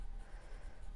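A pencil shades on paper, a soft, steady scratching rasp that stays faint and continuous over a brief moment.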